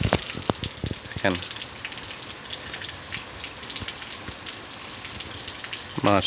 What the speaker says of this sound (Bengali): আজকে সকাল সকাল বৃষ্টি শুরু হয়েছে,